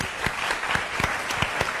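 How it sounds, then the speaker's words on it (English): Steady audience applause for mayoral candidates at the close of a forum, dense and continuous with a few sharper individual claps standing out, fairly close and moderately loud. "give all the candidates one more round of applause, please"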